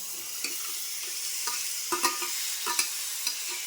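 Goat lung meat (peta) frying in a pan for a Malvani kaleji-peta masala, with a steady bright sizzle and repeated clinks and scrapes of stirring close by, no voices.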